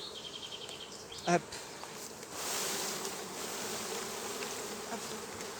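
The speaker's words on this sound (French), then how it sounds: "je vais secouer les abeilles" Honeybees shaken off a hive frame during the honey flow give a steady, diffuse buzzing hum that swells midway, with a short sharp knock near the start and a man's brief spoken word.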